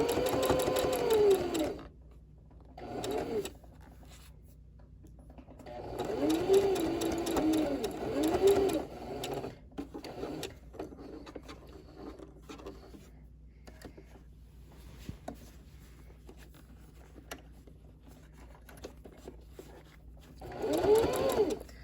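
A sewing machine stitches around piping on a quilted coat, running in several close bursts with quiet stretches of handling between them as the fabric is turned at a corner.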